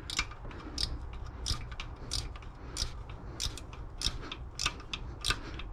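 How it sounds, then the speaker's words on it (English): A ratchet wrench turns a 14 bolt while drive belts are fitted, giving a quiet, rapid series of clicking strokes in uneven bursts, close by and with no talk. "Ratchet wrenches are awesome."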